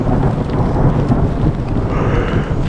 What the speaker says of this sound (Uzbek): Xullas yomg'ir sekinlashdi.